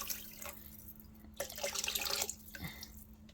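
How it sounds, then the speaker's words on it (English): Water pours and splashes into a pot of 16-bean soup with smoked ham hock, running in two bright bursts with short pauses between, fairly close against a faint steady hum. "Going to add more water because I want it all the"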